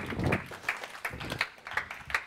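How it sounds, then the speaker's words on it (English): Scattered audience clapping at a crypto talk, a modest round of applause from a small crowd welcoming a speaker, uneven bursts of claps over about two seconds without voices. "big round of applause for George Samman"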